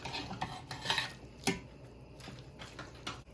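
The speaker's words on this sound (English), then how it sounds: "Just going to give that a stir." A spoon scrapes and knocks around a cooking pot as string beans, potatoes and spices are stirred into a broth, giving a run of irregular close clinks and scrapes with a soft simmer underneath.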